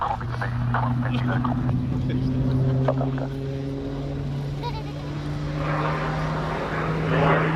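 Propeller display aircraft performing airshow manoeuvres at Cosford: a steady, droning engine whose pitch slowly shifts, heard at a distance under a commentator's continuous talk over the public address.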